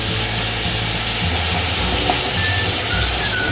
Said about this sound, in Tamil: நாம் எடுத்து வச்சுருக்க சோம்பு ஃபஸ்ட்டு ஆயிலில் போட்டுருங்க.